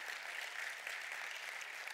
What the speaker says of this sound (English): Why don't you give the worship team a hand clap too?